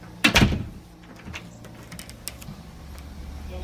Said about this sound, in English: It's detecting that. So when the garage door was left open that Chris was saying, it's this door right here